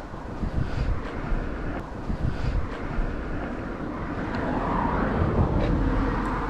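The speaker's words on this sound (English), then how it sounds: "Right there, the wind died down." Wind blows strongly across the microphone outdoors at a wedding photo shoot, a continuous low buffeting roar that stays loud throughout with no talk.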